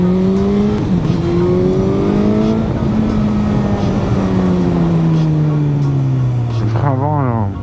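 A Suzuki GSX-S1000GX motorcycle's engine climbs steadily through the gears, each rising tone dropping at a shift, loud and close on the move with constant wind rush, and a voice breaks in briefly near the end.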